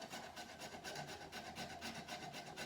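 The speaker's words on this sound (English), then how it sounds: "I'm gonna take my nutmeg, and where is my grater?" Whole nutmeg rubbed against a kitchen grater for a Jamaican soursop drink, a steady run of close, rasping scrapes in quick repeated strokes, with no talking.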